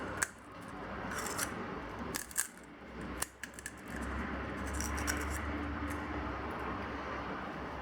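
Crisp pani puri shells are cracked open by hand in a kitchen, giving a few sharp, brief snaps over a faint background hum, with no talking.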